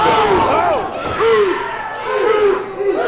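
A wrestling crowd at a Coastal Empire Wrestling event grunts along to a beat, rising and falling chant-like vocal swells from many voices in a loud arena.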